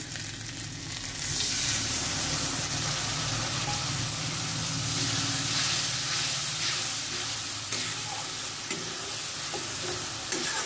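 Spice paste of ground coriander, turmeric and chilli mixed with water sizzles and hisses continuously in hot oil for a potato and bata fish curry, with occasional stirring scrapes over the steady frying.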